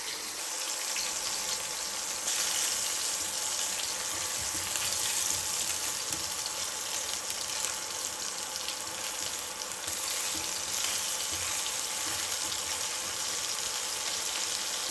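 Fresh mackerel frying Goan style in hot oil gives a steady, dense sizzling hiss that stays even and fairly close throughout, with no voices.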